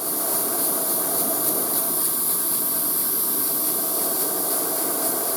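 Spray paint hisses continuously onto a hobby terrain tile, a steady close, loud airy rush with no pauses.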